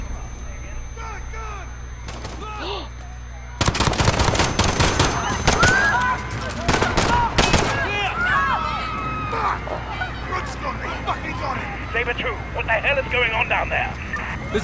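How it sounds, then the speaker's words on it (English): Gunfire in the video game Call of Duty Modern Warfare during a police shootout in Piccadilly Circus: bursts of loud, rapid automatic shots, then continued firing amid shouting voices and chaotic crowd noise. "Shots fired."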